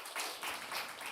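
A church congregation at a Korean Sunday worship service gives a short burst of applause, a soft, even patter of many hands clapping at a distance for about a second.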